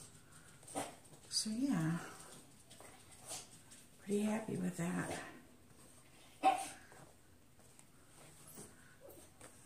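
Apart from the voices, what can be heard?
pet dog whimpering and barking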